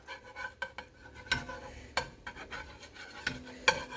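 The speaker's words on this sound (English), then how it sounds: "Another omelet trick that I learned is you have to like spread around the cooked stuff." Spatula scraping and stirring cooked omelette egg around in a frying pan with too much oil, giving irregular clinks and scrapes of utensil on pan, fairly close and alone.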